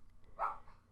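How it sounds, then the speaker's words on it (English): An excited pet dog lets out a single short bark indoors, fairly faint and set against a low room hum, with quiet around it. "Why is my dog barking again?"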